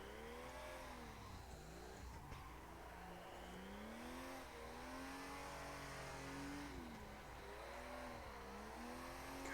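Drift cars in the Assetto Corsa sim racing game, engines revving and wailing continuously with sweeping pitch rises and falls and tire squeal, loud and steady throughout with no talking.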